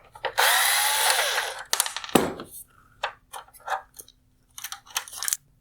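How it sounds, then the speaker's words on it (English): A T10 Torx screw being driven out of the corner LED on an empty 2017-2021 Alfa Romeo Stelvio xenon headlight housing, heard as a close, loud whir of a powered driver followed by a series of short plastic clicks and taps. "There's one T10 Torx screw holding on the corner LED."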